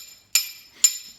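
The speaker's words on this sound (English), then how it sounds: "So this is an on dolly with a slapper hammer." A slapper hammer striking a steel car body panel backed by a dolly: two bright, ringing metallic smacks about half a second apart, close and clear with no talk.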